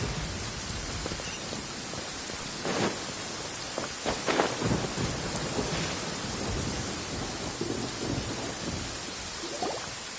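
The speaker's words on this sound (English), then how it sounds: "Where is the storm headed?" Thunderstorm in the video game Genshin Impact: a steady hiss of heavy rain with several rolling thunder rumbles, loud and continuous, no voices.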